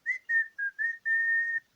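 Whistled melody from a song: five clear, bright notes, the last one held long, heard alone and fairly close.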